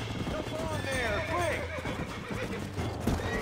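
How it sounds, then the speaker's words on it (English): A horse in the Red Dead Redemption video game whinnies loudly with falling, wavering cries over a steady clip-clop of hooves and game ambience. "my horse is running around in circles."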